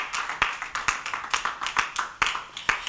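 A church congregation claps in acclaim, a brisk, fairly regular series of sharp hand claps that sound close and a little uneven, with no voices over them.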